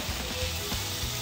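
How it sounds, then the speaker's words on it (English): Lobster pasta noodles and a homemade sauce being mixed together in a hot pan, a steady soft sizzle with faint stirring scrapes throughout, no talking. "We're gonna take a little bit of our homemade sauce, mix that right inside there"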